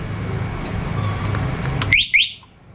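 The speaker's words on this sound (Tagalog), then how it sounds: "ito yung alarm na kapag natatamaan" Two-way alarm system installed on a Motorstar Easyride 150N motorcycle sounds in two short, loud chirps near the end, following steady engine-like rumble and background noise that cut off abruptly.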